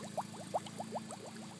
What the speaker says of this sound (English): It's making bubbles.